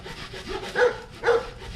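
Two rough rasping strokes of a hand saw cutting wood, close by, with a pause between them and a low background hum.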